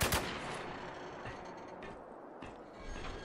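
Shotgun and machine gun fire in the video game Spec Ops: The Line, with a loud opening blast followed by scattered sharp reports and mechanical clatter over a dense, busy background.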